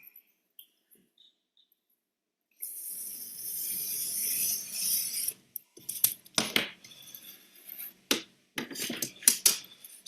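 A blade trims the damaged edge off a foam board in quiet surroundings, giving a close, steady scraping cut of a few seconds followed by several sharp clicks and taps as the piece is handled.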